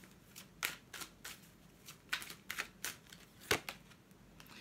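Oracle cards being shuffled for a reading make a series of quick crisp riffling flutters in uneven bursts, close and fairly soft, with no talking.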